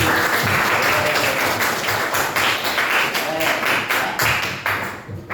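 A classroom of students claps together during a religious education lesson, loud close-up clapping that settles into a rhythmic unison beat, with some voices mixed in.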